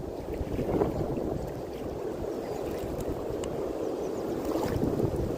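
Steady wind rumbling and buffeting outdoors by a river, continuous low noise with no voices.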